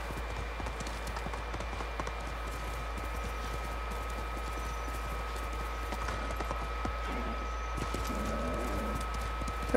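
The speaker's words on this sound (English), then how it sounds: "we managed to not fall off our horse there" A horse gallops in the Ghost of Tsushima video game, its hooves thudding in a fast, even clip-clop rhythm. The beat runs steadily throughout over a low, constant background hum.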